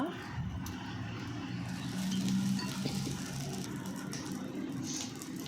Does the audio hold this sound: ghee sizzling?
yes